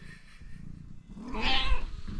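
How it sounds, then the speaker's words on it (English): A domestic cat gives one drawn-out meow at close range indoors, rising out of quiet room noise partway through, with faint bumps of handling around it. "Now the cat's come back in."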